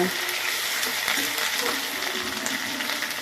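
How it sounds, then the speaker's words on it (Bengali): Green chili paste frying in a pan while being stirred, a dense continuous sizzle with soft scraping and stirring strokes, close and steady throughout. "এরপর আমরা কাঁচা ঝাল বাটা দিয়ে দিলাম। কাঁচা ঝাল বাটা দিয়ে একটু নেড়ে দিই।"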